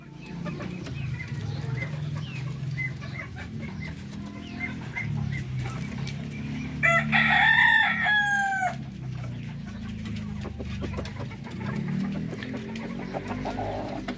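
A native Darag rooster on a chicken farm crows once, loud and close, in a single rising-and-falling call that stands out over a steady low background murmur.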